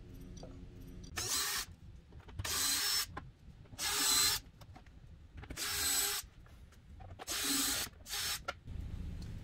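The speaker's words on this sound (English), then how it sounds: "we're just going to go ahead and remove all of these fender bolts right here" A power ratchet removes fender bolts on a Can-Am Maverick X3, firing in about six separate short buzzing bursts of one to two seconds each, with quiet pauses between them.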